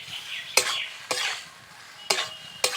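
A spoon scrapes and stirs chicken in a pan, four sharp strokes at uneven intervals over a soft background sizzle, close and fairly loud, with no voices.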